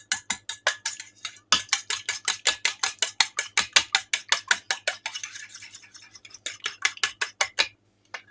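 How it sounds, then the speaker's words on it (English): A utensil whisks an egg briskly in a bowl, producing a fast, regular series of loud, close clinking strikes against the bowl with a short break partway, and no voices. "crack an egg. And you want to beat it really good"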